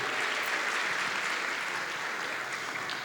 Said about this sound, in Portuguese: Uma salva de palmas para os nossos papais presentes aí.